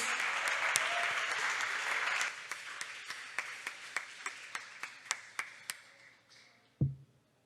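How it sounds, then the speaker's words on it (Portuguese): A church congregation applauds in praise during a Portuguese-language worship service, a dense burst of clapping that thins into a handful of separate claps before a single heavy thump at the end. "aplauda o Senhor em nome de Jesus"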